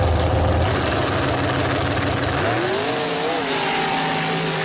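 A modified mud truck engine roars loud and close at the start of a shootout race, a heavy rumble that climbs in pitch as it revs up off the line.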